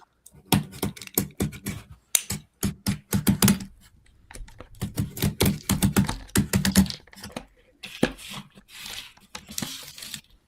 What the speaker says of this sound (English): I'm also going to try a box cutter just to kind of see the difference between the two.